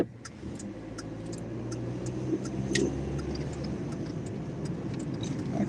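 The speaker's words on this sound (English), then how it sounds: "That car sound like shit." On a city street at night, a rough-sounding car engine rumbles steadily and swells slightly as it passes nearby, with faint ticking and clicking above it.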